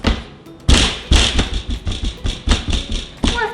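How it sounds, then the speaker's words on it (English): A carrot cake pan is banged against a plate to release the cake, giving a series of loud, close, irregular thumps and taps, roughly ten hits in quick succession without speech. "Now you just bang it a couple times"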